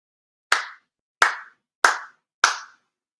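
Four sharp, ceremonial hand claps at a Konko shrine monthly service in Chula Vista, evenly spaced and crisp, each ringing briefly in an otherwise silent room.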